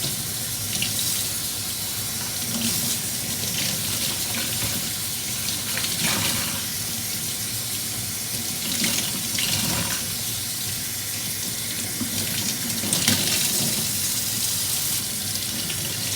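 Steady rushing warm tap water pours into a sink, close and loud, with occasional splashes as a Shark Navigator Lift-Away vacuum part is washed under the stream with dish detergent.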